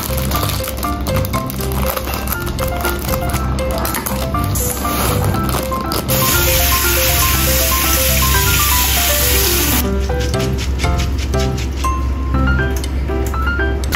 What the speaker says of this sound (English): Barley wash and set aside.